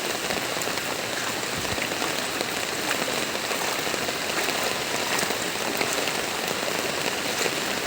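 Steady, dense rain from a typhoon pours down continuously over flooded Malabon, a loud hiss of drops hitting surfaces all around, with no voices.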